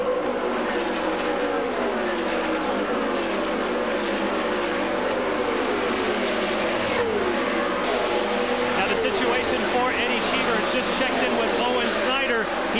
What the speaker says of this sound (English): On board with Cheever now as he sets the car into turn number 3